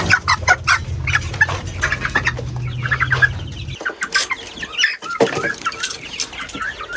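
Hens and young chicks cluck and cheep close by as the chicks are caught and moved to another part of a room. Busy, overlapping calls continue throughout over a low hum that cuts out halfway, and no one speaks.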